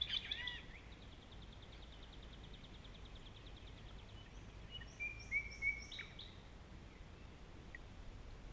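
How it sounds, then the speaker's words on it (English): On a river, a mockingbird sings quietly at a distance, sending short bursts of rapid chirps and trills over a soft, steady outdoor background. "I hear them birds. Oh yeah, big old mockingbird."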